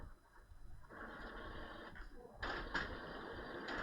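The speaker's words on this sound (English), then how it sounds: "if you can hear the printer" Home printer running nearby while printing packaging, a steady mechanical whir with faint clicks that picks up and grows louder partway through, heard at moderate distance without talk.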